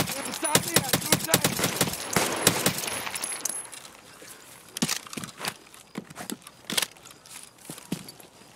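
Escape From Tarkov gunfire as a magazine is emptied: a rapid string of close, sharp shots in the first few seconds, then scattered single cracks and clicks with some movement noise.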